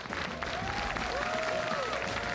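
Esports arena crowd at an IEM Katowice StarCraft II match, cheering and applauding in a steady, dense roar of claps and voices throughout.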